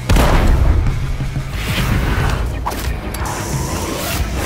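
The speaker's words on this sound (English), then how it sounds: "Grenade!" A grenade blast in the video game Sunday Gold: a loud, heavy boom with deep rumbling debris that fades over a few seconds.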